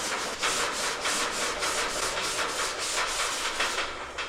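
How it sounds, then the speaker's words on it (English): Sandpaper rubbing by hand over the bodywork of a 1967 Shelby GT-500 Mustang under restoration, a steady back-and-forth scratching in even strokes, close and fairly loud with no talking. "You let the sandpaper do the work."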